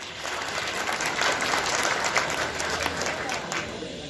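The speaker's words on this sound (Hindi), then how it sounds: "इसके लिए आप अपने आप के लिए जोरदार ताली बजा दें" An audience at a business achievement event breaks into loud applause, a steady, dense wash of clapping from a large crowd that holds at even volume throughout, with faint crowd noise mixed in.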